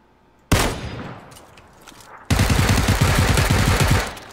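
Gunfight in PUBG: a single loud sharp shot rings out and decays, then a sustained burst of rapid machine gun fire follows, close and heavy, with no talk.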